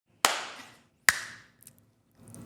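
Two sharp, close hand claps about a second apart in a quiet room, each ringing briefly before fading, followed by faint rustling.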